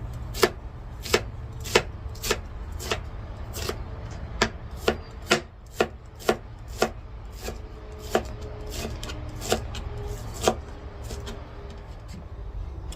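Steady knife chops on a cutting board, a regular series of crisp, close taps over a low background hum.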